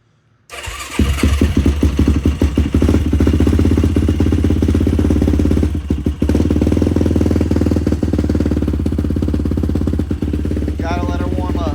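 Yamaha YFZ450 ATV with an aftermarket exhaust fires up after a brief silence and settles into a loud, close, steady idle with a deep, throbbing tone and small rev fluctuations.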